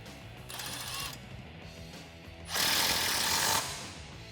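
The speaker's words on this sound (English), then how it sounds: "Then we can grab our self-tapping screw and a 3/8 inch socket and tighten that down to the frame." A self-tapping screw driven into a Jeep Wrangler JK frame with a 3/8 inch socket on a power tool: a short whirring burst, a pause, then a longer, louder grinding run as the screw seats, with no talking.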